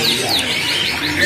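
An AFS canary caged at a bird kiosk sings a continuous, high, warbling stream of trills and sweeping notes, loud and close, with no talk over it.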